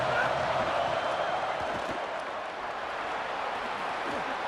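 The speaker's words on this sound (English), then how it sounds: "This crowd ready to make its presence known." Stadium crowd noise from a football video game forms a steady, broad roar that stays at an even level throughout, with no clear peaks or breaks and no distinct voices on top.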